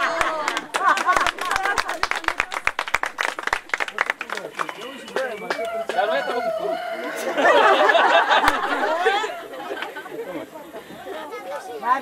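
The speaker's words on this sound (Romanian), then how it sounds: "Să fie cu noroc, aplauze pentru Generică" Guests at a wedding break into a burst of clapping and applause, with sharp claps in the first few seconds giving way to loud, dense crowd chatter and cheering; people talk throughout.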